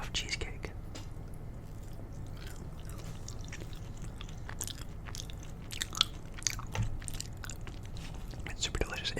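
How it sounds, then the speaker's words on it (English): Close, soft chewing and crunching of Cheesecake Factory cheesecake crust, with quick irregular bites and mouth sounds over a faint low background, and no clear talking. "I eat them from the crust forward because I love the crust of cheesecake"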